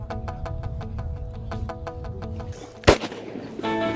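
A single loud, close shotgun blast rings out at birds coming in to decoys, sharp and sudden after a stretch of rhythmic background ticking, followed by fading outdoor noise.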